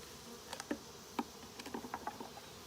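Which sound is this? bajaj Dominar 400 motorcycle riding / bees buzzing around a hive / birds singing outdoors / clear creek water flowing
bees buzzing around a hive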